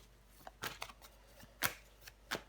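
Tarot cards handled at close range during a reading make a few soft, quiet snaps and slides, spread as separate brief sounds over a couple of seconds.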